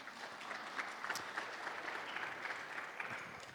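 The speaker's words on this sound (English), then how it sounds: "Applause, applause." An audience claps at a university arts and humanities lecture, a steady, fairly faint ripple of applause that continues evenly throughout without voices.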